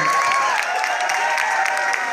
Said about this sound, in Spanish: Un aplauso para mi compadre.